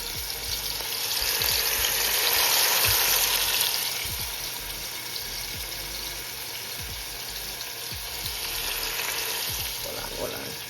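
Beef frying and being stirred in a pot for Jamaican brown stew, a steady loud sizzle broken by soft scraping stirs, swelling louder near the start and again near the end.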